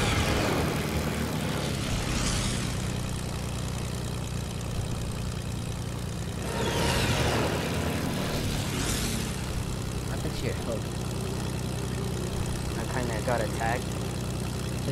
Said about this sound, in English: There's a plane right here.